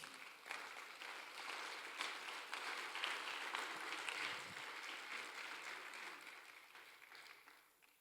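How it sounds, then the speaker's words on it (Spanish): A church congregation claps together in steady, sustained applause for several seconds, fairly soft and diffuse, and it gradually fades toward the end with no talk over it. "Den un aplauso al Señor, hermano."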